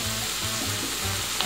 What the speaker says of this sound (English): we're gonna add a little bit of the dry wine, Vino Seco golden cooking wine